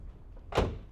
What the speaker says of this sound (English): They're carbon doors that are not completely back together yet, so you're not gonna have like that firm sound of a metal door